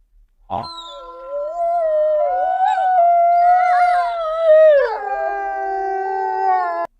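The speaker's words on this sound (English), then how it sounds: "W for wolf." A wolf howls once in a long, loud, wavering call that rises, bends in pitch and trails off, heard close and alone over a silent background.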